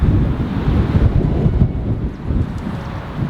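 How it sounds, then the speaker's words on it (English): Strong wind buffets a microphone outdoors on a Colorado mountain morning, a continuous loud low rumble with gusty surges and no voice audible. "Sorry, it's kind of windy, so I have no idea if you guys are going to be able to hear me or not"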